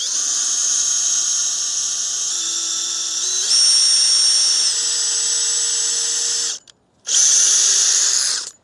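A power drill drives screws into a wooden stand being built for a water container, its loud, steady motor whine shifting pitch in steps, cutting out briefly near the end, then restarting.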